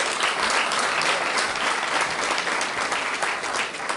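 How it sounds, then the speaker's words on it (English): A large audience claps continuously, a dense, sustained wash of applause that holds steady for several seconds before easing slightly at the end. "please, round of applause."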